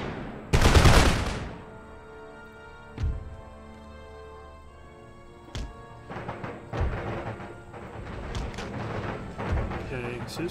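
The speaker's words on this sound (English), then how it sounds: "So the artillery's coming." Artillery fire in Empire: Total War, a loud booming blast followed by several sharper, scattered cannon shots and distant rumbling battle noise over the next several seconds.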